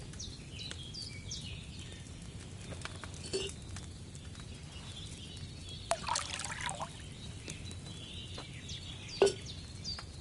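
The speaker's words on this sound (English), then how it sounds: "First, you have to pour the right base into the cauldron." Liquid trickles and patters as wine is poured into a cauldron during alchemy in Kingdom Come Deliverance 2, a soft steady stream with faint bird calls and a few clinks in the background.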